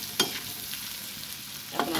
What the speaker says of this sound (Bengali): সবজিটা ভালো করে ভেজে নিচ্ছি।